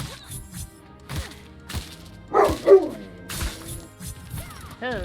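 A puppy in the video game Battle Chef Brigade barks loudly in quick, yappy bursts mixed with game sound effects and a whimper-like chime, with a thudding crash in the middle.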